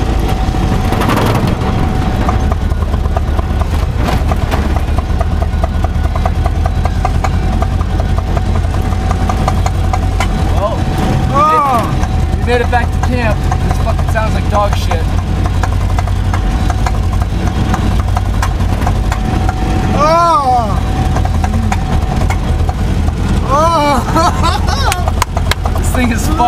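An old truck's engine runs roughly in a loud, continuous drone with uneven rumbling, while someone talks occasionally over it.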